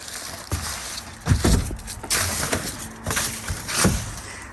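Dry leaves are shifted and crunched around a boat's engine compartment in several loud, close bursts of rustling, separated by brief pauses.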